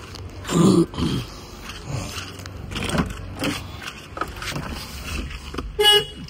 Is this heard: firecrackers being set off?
no